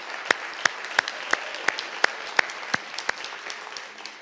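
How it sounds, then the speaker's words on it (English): Applause from a town meeting audience for local officials, a steady wash of clapping with one near, sharp clapper beating regular loud claps about three times per second. "Go ahead and applaud"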